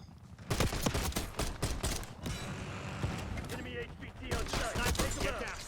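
Rapid gunfire from Call of Duty Black Ops 6 gameplay, sharp repeated shots in quick bursts with mechanical clicks and reload sounds between them, loud and close.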